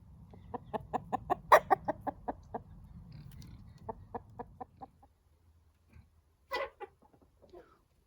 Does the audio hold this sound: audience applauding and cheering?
no